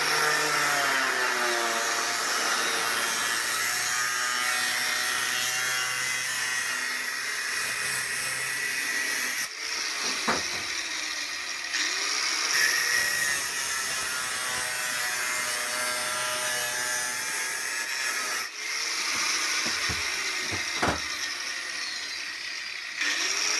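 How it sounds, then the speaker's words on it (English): An angle grinder cuts through metal while modifying a FastRack, giving a loud, steady high-pitched whine and hiss that runs almost the whole time. It breaks briefly twice, with short clanks between passes. "I prefer to use an angle grinder"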